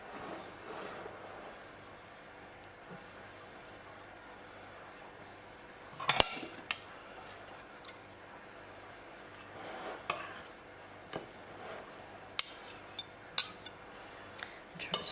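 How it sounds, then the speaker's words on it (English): A utensil scrapes and clinks around the edges of a bowl of two-ingredient beer bread batter, soft steady scraping broken by a few louder knocks and clinks close by. "Try to scrape down the edges"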